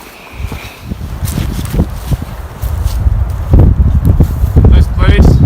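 Wind blowing outside a Polish military lavvu tent during a winter windstorm, a loud rushing roar that swells toward the end, mixed with footsteps and rustling close to the microphone.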